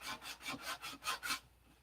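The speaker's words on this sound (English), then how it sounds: "this is the part that takes the longest amount of time on building an airplane, the detail sanding" Hand sanding of detail areas on a model airplane, a soft, close rasping sound made in about seven even back-and-forth strokes that stop near the end.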